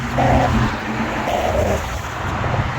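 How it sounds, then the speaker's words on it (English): Steady broadband road roar from cars crossing the Tacoma Narrows Bridge, a continuous loud wash of passing traffic heard from the walkway with no talking. "the noise you hear is cars crossing"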